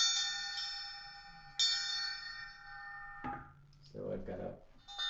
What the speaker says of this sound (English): So this is a elephant bell.